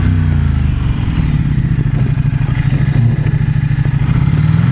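A 2021 Ducati XDiavel motorcycle accelerating hard, its engine a loud, close, pulsing rumble that climbs steadily with throttle, with wind buffeting the rider throughout.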